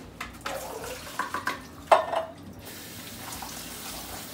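Water runs and splashes in a kitchen sink as canned chickpeas are drained and rinsed, with bursts of clattering and sloshing early on that settle into a softer steady flow. No one speaks.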